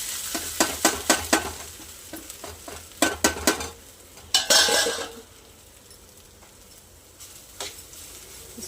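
Soybeans frying in a pan are stirred with a utensil, giving quick clattering scrapes against the metal, a brief burst of sizzling, then a quieter stretch with an occasional tap.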